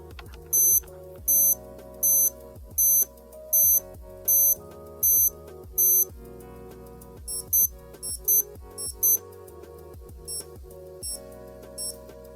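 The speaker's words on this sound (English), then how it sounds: "First it chimes the hours, then it chimes the quarter of hours," A Breitling Aerospace Avantage watch chimes the time: a series of bright, evenly spaced hour tones, then a quicker run of paired higher quarter-hour tones, with light mechanical clicks underneath.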